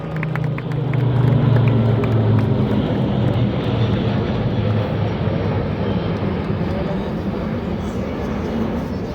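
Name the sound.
military aircraft formation flypast, Republic Day parade New Delhi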